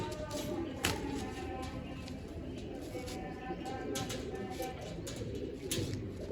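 Caged pigeons coo softly and repeatedly in a noisy, crowded space, with occasional chirps and faint human voices mixed into the steady background.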